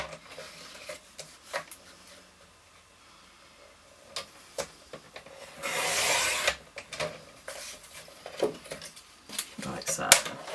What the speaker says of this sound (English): turn it portrait style and trim off 1 centimetre.